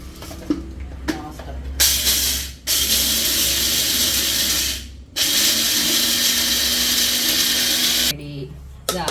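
A kitchen mixer grinds idli powder with salt in loud, sustained whirring bursts broken by short pauses, with someone talking over and between the runs.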